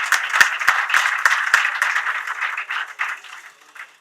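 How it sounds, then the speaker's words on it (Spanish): Audience applause closing a seminar on oral litigation, a room full of hands clapping steadily with sharp individual claps standing out, fading toward the end. "les vuelvo a pedir un aplauso para que terminemos con este cierre"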